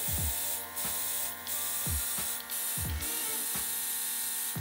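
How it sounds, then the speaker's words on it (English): A cheap airbrush sprays water in short repeated bursts with weak flow, each hiss starting with a pop, over a steady mechanical hum. "test any airbrush is you always want to make sure that you're spraying water or cleaner out"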